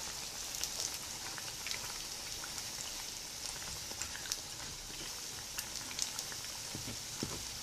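Liver-filled pirozhki frying in about two centimetres of oil in a pan, a steady, bright sizzle with scattered pops and spatters, close and continuous with no talking.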